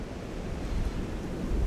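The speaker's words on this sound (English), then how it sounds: "I know it's fierce windy" Steady, broadband roar of strong wind from Storm Éowyn in Ireland buffeting the microphone, with low gusty rumbles swelling and easing throughout; no voices.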